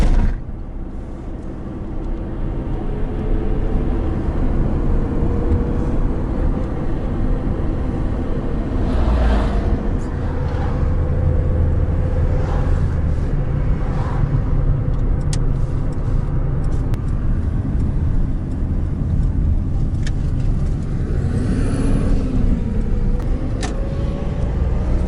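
A car drives through city streets in Syktyvkar, with a steady road roar and tyre noise from inside the vehicle, loud and continuous, and occasional passing traffic sweeping by.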